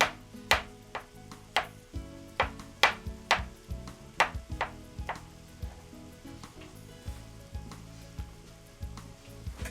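Sliced sausage sizzles in a pot with a soft, steady hiss for a pasta dish with red wine sauce, punctuated by sharp, evenly spaced knocks about twice a second, close and moderately loud, with no talking.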